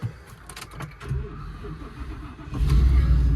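A 2022 Thor Chateau 22E motorhome engine is cranked with a rapid, uneven churning of the starter for about two and a half seconds. The engine then catches and settles into a loud, steady, close idle.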